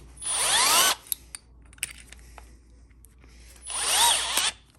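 A Milwaukee M12 cordless drill whirs in two short bursts, each speeding up and winding down, with a few light clicks and handling noises in the quieter gap between.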